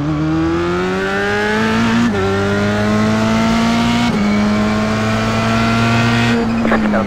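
An F3 race car engine at Donington Park in the iRacing game screams loudly and steadily, rising in pitch and dropping sharply at each upshift about every two seconds.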